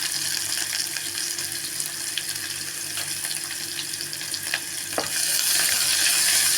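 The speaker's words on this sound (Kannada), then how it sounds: "ಬೆಳ್ಳುಳ್ಳಿ ಹಾಕಿದ ನಂತರ ಒಂದು ಕಟ್ ಮಾಡ್ಕೊಂಡಿರೋದು ಈರುಳ್ಳಿ ಹಾಕ್ಕೊಳ್ಳಿ" Garlic and chopped onion fry in oil in a pan for menthya bele sambar, a steady close sizzle with light hiss and occasional stirring scrapes, swelling slightly louder toward the end.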